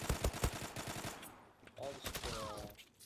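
Rapid bursts of gunfire in the online shooter Zula, with close sharp shots in quick runs at first and then sparser fire, while people talk over the shooting.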